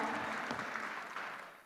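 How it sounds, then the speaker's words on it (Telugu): An audience applauds to welcome actress Abhinaya onto the stage at a film pre-release event, a brief burst of clapping that fades steadily and sounds fairly faint. "మీరు చప్పట్లతో స్వాగతం పలకవలసిందిగా కోరుకుంటున్నాము"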